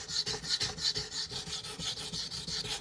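A knife blade is drawn across a whetstone in steady back-and-forth strokes, a close, dry rasping scrape repeating about twice per second with no talking.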